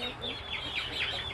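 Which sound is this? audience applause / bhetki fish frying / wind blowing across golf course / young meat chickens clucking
young meat chickens clucking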